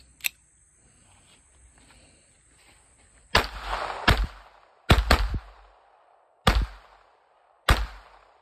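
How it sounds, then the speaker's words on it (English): A Jimenez Arms .22 LR pistol fires six sharp, loud shots outdoors at uneven intervals, including a quick double, each crack followed by a short ringing decay, with a faint earlier click. "I'm just gonna run a couple bullets through."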